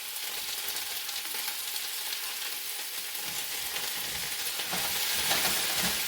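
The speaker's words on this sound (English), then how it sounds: "it's been a few more minutes since the onions have been cooking, so I'll be adding the mushroom next" Onions and mushrooms fry in a pan for Hayashi rice, giving a steady, close hiss of sizzling that swells slightly louder near the end, with occasional stirring scrapes.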